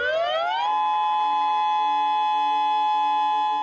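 Outdoor civil defense warning siren on Maui sounding its tsunami alert: a tone rises steeply for about half a second, then holds a steady loud wail to the end, with no talking.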